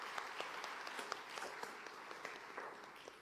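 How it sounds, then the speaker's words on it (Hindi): Sustained audience applause welcoming a girl at a National Girl Child Day campaign launch event in India, a steady wash of many hands clapping at moderate distance, with no speech over it. "तालियां बजा के स्वागत कीजिए।"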